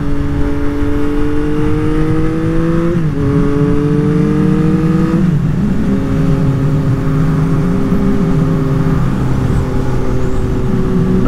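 Yamaha MT-09 motorcycle with about 10,000 miles accelerating on the road beside a Corvette, a loud steady engine drone with rising pitch that shifts down at gear changes, heard up close over wind rush.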